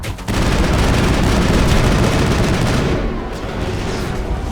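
Dense, continuous gunfire from the video game Mass Effect, a loud, unbroken roar of rapid shots that thins slightly near the end.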